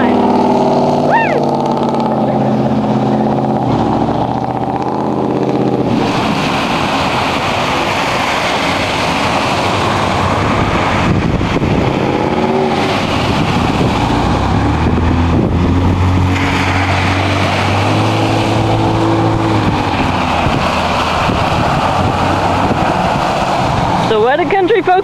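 A vehicle with a loud muffler roars past fast, its engine note rising and falling through several passes against wind noise. People talk and shout over the engine.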